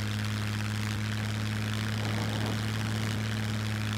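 Steady, loud drone of a propeller aircraft engine heard from inside a plane in flight in the survival video game SCUM, a constant tonal hum and roar with no pauses and no speech.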